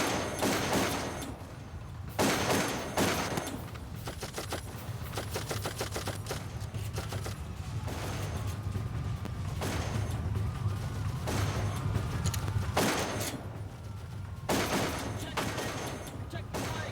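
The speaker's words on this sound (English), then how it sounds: "You can really put rounds on target." Video game gunfire in Darkest of Days during a combat mission, loud rapid volleys and sustained bursts of shots over a busy battle din, with voices speaking in between.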